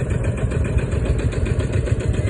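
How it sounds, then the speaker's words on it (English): A Marshall single-cylinder tractor engine chugs at a tractor show, a close, loud, low rhythmic thumping with rapid even pulses and no talk. "Marshall single cylinders there, very distinctive sound"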